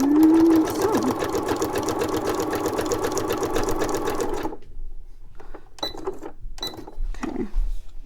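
A sewing machine stitching tags in place, running steadily at a brisk pace for about four seconds, then stopping and leaving scattered clicks and handling noises, close by.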